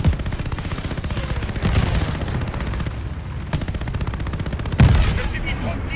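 Gunfire in the Call of Duty Vanguard video game at Stalingrad: dense, continuous automatic fire with heavy booming bursts that stays loud throughout, with some talk beneath.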